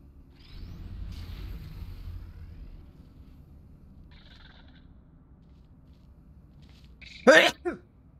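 A voice talks quietly, then after a pause a sudden sharp sneeze bursts out up close, followed by a brief smaller catch of breath.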